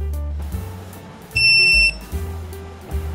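An ATO portable multi-gas detector powers up with a loud, piercing electronic beep lasting about half a second, close by, set among low handling noises.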